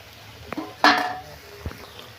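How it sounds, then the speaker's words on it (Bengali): Fried small fish and eggplant tipped from a pan into boiling curry, heard as one short clattering splash near the middle between soft utensil knocks. "এবার আমি মাছ ভাজা আর বেগুনটা এর মধ্যে ঢেলে দেবো।"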